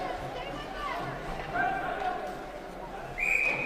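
A referee's whistle blows at an ice hockey game: a short shrill blast near the end, above crowd and arena noise, with a commentator talking throughout.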